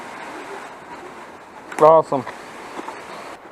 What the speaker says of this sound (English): Waterfall right there.